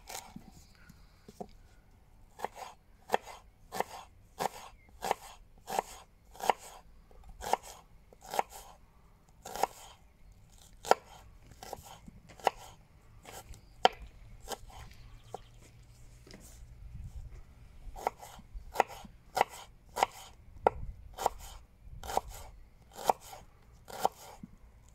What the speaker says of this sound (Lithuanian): Supjaustam svogūną.